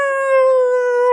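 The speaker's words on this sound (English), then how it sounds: "Oh, dog noise." A dog howls in a video game, one sustained, steady, tonal howl with bright harmonics, loud and close, with no talk over it.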